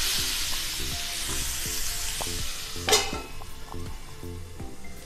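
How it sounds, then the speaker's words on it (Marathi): Tomatoes sizzle steadily while sautéed for Nashik-style misal masala, a continuous frying hiss with rhythmic stirring taps and a brief louder scrape of the pan, close up with no talking. "टोमॅटो पण आपल्याला छान परतून घ्यायचे आहे."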